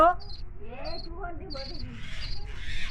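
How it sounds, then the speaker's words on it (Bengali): High, thin chirps of a baby bird begging for food, repeated in short bursts through the clip, heard near and under ongoing talk. "এই যে দেখো পাখির বাচ্চা পেয়েছি। এই যে পাখির বাচ্চা খেতে চাইছি"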